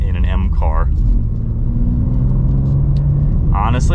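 A 2025 BMW M2 engine rumbling low and steady while cruising around town, with brief talking at the start and end.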